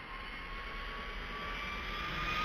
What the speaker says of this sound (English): And then let's start up the engine.